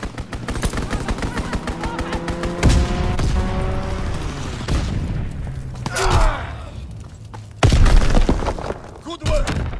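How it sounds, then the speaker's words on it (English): An aircraft strafing run in Call of Duty WWII brings loud machine gun bursts and impacts over steady battlefield gunfire, with heavy hits near the middle and end and voices shouting over the noise. "Strafing run inbound!"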